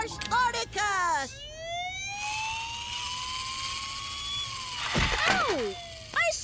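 A tiny toy police car in a cartoon wails with a rising and falling electronic siren that sweeps steadily upward, mixed with brief cartoon voices and effects at the start and end.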